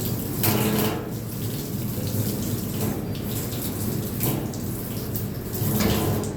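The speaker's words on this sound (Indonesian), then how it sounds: "Yang ketiga cuci tangan prosedural biasa ya." Tap water running steadily into a sink during procedural handwashing, a continuous close splashing rush with slight shifts as hands move under the stream, alone without talk.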